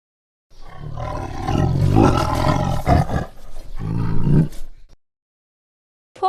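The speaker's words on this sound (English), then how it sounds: "Tiger." A tiger roars in a deep, loud, sustained bellow that swells and rolls over about four seconds, heard alone with no talking.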